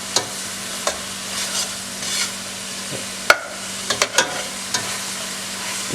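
A spoon stirs pureed onion, two small to medium onions' worth, into spices in a pan for a British Indian restaurant chicken korma, giving soft scraping and a few sharp taps over a faint low sizzle.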